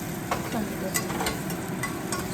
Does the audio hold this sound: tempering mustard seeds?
yes